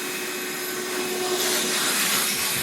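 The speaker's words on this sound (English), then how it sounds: "I'll grind this down a little bit" Metal is ground down on a Jeep CJ frame during a CJ5-to-CJ6 build, giving a loud, steady whirring grind with a high whine that grows harsher partway through. There is no talking.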